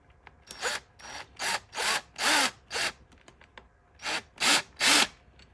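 A power drill whirs in short repeated bursts, about eight pulses with pauses between, each rising in pitch as a screw bites into whiskey barrel wood without pre-drilling, close and loud.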